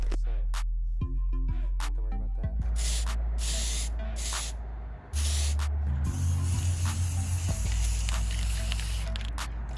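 An aerosol spray paint can hisses in several bursts, brown and black, while goggles are painted for a Spider-Man Noir costume. The hiss is loud and close, with short and longer sprays and faint handling noises between them.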